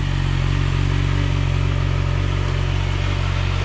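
A Yamaha R6 race bike engine idles steadily as it warms up after an oil change, a loud, close, continuous low rumble with a fast, even mechanical pulse and no talking.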